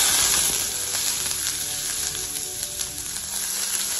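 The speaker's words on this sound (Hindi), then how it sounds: "इसके अंदर अब मैं डालूंगी बारीक कटा हुआ प्याज" Finely chopped onion sizzles steadily in hot oil in a pan used for frying eggs, a dense continuous crackle, close and loud, with no voices.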